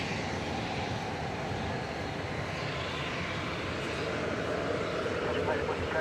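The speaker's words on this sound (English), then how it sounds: "Sun Country Flight 504 to Minneapolis, St. Paul. To 737-800." A Sun Country Boeing 737-800 jet, about ten years old, bound for Minneapolis–St. Paul, rumbles as a steady, fairly loud broadband engine roar at a night airport, holding constant throughout with a voice talking over it.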